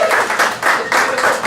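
A crowd claps and cheers in welcome for architect Mark McIntyre at the ribbon cutting and grand opening of the Art Works Now building. The applause is steady, dense and fairly loud, with no break in it.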